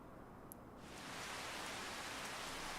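Rain falls in Farming Simulator 25 at harvest time as a soft, steady hiss that swells to a fuller, denser wash after about a second, then holds evenly with no voices.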